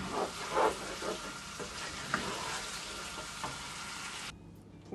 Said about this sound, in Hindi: फ्लेम हाई करूँगी, 1 मिनट के लिए इसको भूनूंगी।